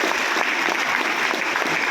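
Audience applause at a network-marketing seminar in Amroha, a steady, dense wash of clapping from a crowd filling the whole stretch at even loudness with no talk over it.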